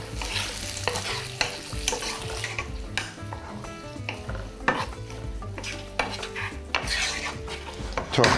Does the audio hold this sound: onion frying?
yes